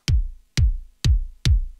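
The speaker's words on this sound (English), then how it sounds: "The kick sounds like this." Four punchy kick drum hits, processed with EQ, compression and a multiband compressor, evenly spaced about half a second apart, each with a deep boomy low tail, close and dry without reverb.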